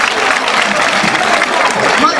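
Applause from an outdoor evening festival crowd at a religious centenary celebration, a dense steady patter of clapping lasting a couple of seconds, with some voices mixed in.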